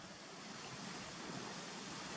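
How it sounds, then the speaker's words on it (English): Whitewater rapids on Gunnerside Gill, a hillside stream, give a steady broadband rushing hiss, constant and fairly faint, with no voices. "You've always got the whitewater rapids coming all the way down"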